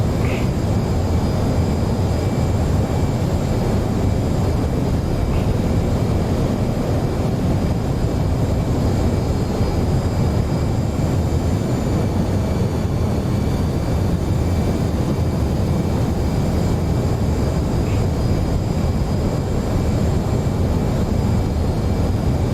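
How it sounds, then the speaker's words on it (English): Steady, loud roar of an F/A-18C's engines with afterburner during aerial refueling approach in DCS World, a broad continuous rumble with a faint high whine, no voices. "see you working that afterburner on"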